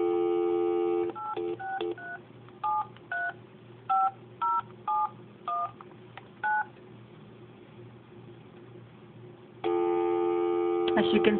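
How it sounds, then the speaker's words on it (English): A MagicJack phone line gives a steady dial tone. It is followed by about a dozen short touch-tone dialing beeps in an uneven rhythm, a pause, then another continuous tone. The sound is clear and close, like a line recording. "That's the dial tone."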